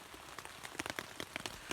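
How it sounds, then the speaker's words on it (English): Rain falls on a tent while camping in the woods, an irregular, fairly soft patter of individual drops tapping over a constant hiss. "And literally went to undo the zip and the rain started"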